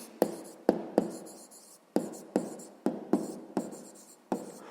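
Pen or chalk writing out an answer during a sixth-grade maths exercise: a series of sharp, distinct taps and short strokes, about nine in under five seconds, close and fairly quiet, with no talk.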